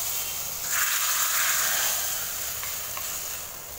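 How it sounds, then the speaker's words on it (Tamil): A hot tempering of fenugreek and curry leaves hits garlic dry fish curry with a loud, close sizzling hiss. The hiss surges for about a second and then slowly fades into a steady simmering crackle. "பூண்டு கருவாட்டு குழம்புல தாளிப்பு நம்ம சேர்த்துக்கலாம்."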